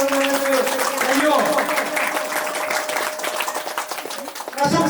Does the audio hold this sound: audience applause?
yes